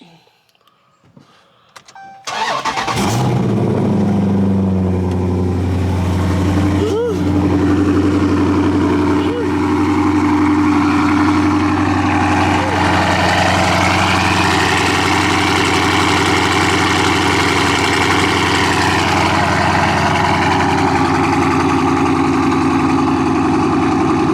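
A car engine fires up from a cold start and then idles loudly and steadily, a low continuous rumble that holds for over twenty seconds after a brief quiet lead-in.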